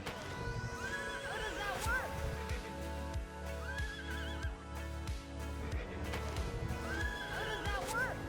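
A horse in the MMORPG Elyon whinnies in long rising-and-falling neighs, three times, over a steady clip-clop of hooves with a constant background hum.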